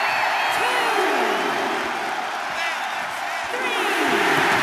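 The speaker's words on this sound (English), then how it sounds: "when you can't hear yourself think because the crowd's so loud" Loud arena crowd cheering and roaring from a WWE 2K23 wrestling game during a Last Man Standing match, a steady dense wash of noise throughout with swelling whoops.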